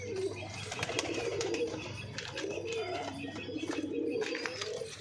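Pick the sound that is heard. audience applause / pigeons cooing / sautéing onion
pigeons cooing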